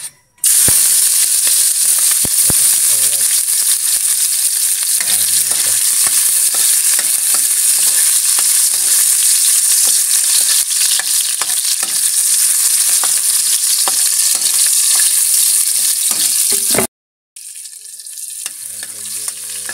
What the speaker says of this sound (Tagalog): igigisa na natin yung karne